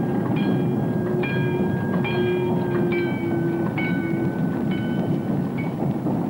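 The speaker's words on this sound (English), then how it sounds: "Oh, there's another train. Yeah, there it comes." A train rumbles loudly past in an enclosed space, a steady heavy roar with recurring metallic squeals and tones.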